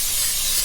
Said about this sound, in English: Let's spray some cooking spray.